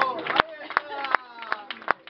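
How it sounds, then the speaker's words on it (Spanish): Scattered hand claps at a blues gig in a pub, a handful of sharp, separate claps spaced irregularly, close and loud, with a voice speaking between them. "darle un fuerte aplauso a Helu"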